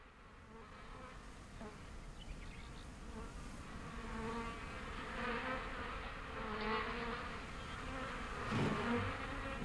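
Steady insect buzzing from many honeybees by the windy sea, a continuous drone that swells slightly louder toward the end, with no voices.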